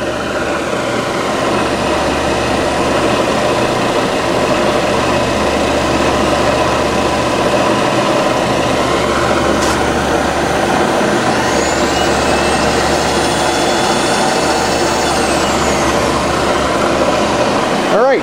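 A JET vertical milling machine's power feed hums steadily in rapid traverse, a loud, continuous motor whine with a faint rising tone near the end.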